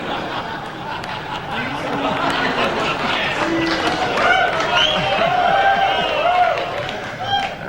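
Comedy audience reacting to a joke, a mix of scattered laughter, murmuring chatter and light clapping that swells and stays fairly loud throughout, with a voice briefly audible amid the crowd.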